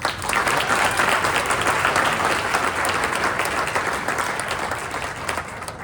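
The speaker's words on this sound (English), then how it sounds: "ask you to put your hands together one more time for some last words from Chamber CEO Liz Hartman" Audience at an evening awards program clapping, a full loud round of applause that holds steady and then slowly thins toward the end.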